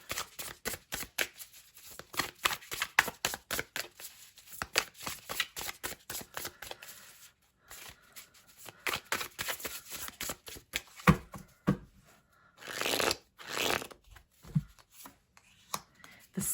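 A tarot deck being shuffled by hand nearby in rapid, repeated riffles and soft slaps of cards, coming in bursts with short pauses between them.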